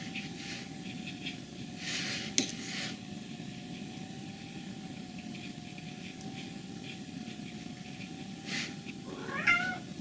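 A cat meows a couple of times, close by and moderately loud, with a steady background hum and soft brushing noises between calls.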